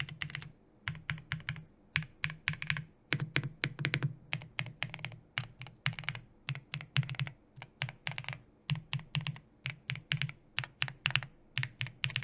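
Close-up typing on a mechanical keyboard with Gateron Lemon Seabreeze switches in nylon base housings produces rapid bursts of deep, thocky keystrokes in uneven rhythmic clusters, crisp and focused, with no speech.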